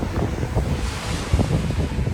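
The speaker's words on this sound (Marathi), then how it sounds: "इथं बघू शकता तुम्ही दोन समुद्र एकत्र येतात बंगालची खाडी आणि हिंद महासागर" Sea waves roll and wash at the point near Rameswaram where the Bay of Bengal meets the Indian Ocean. Heavy wind rumbles across the microphone and blurs the steady surf.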